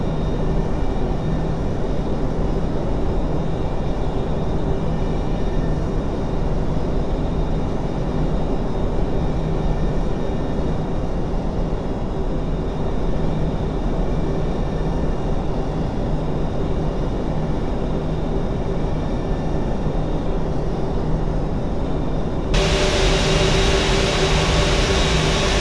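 A KLM airliner in a flight simulator taxis toward runway 22, its jet engines giving a steady, loud, unbroken drone with a low rumble and faint whine throughout.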